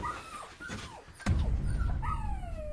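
A dog whimpering and yipping in high, wavering whines, with a sharp thump midway followed by louder rumbling noise as the whines continue.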